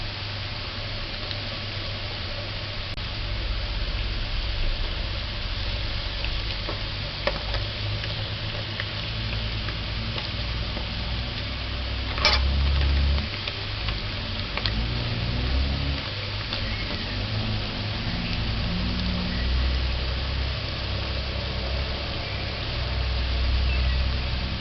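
Johnny cakes, fried dumplings, sizzle in hot oil with a steady low bubbling hiss and occasional pops and crackles, continuous and close throughout.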